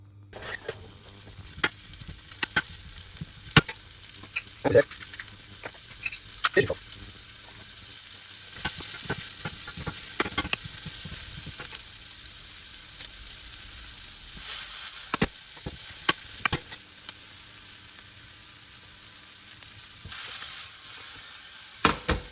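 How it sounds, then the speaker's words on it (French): Small onions frying in a drizzle of oil in a pan: a steady, close sizzle running throughout, broken by scattered sharp pops and the occasional clack of a utensil, with no talking. "On allume. Et on va y mettre nos petits oignons."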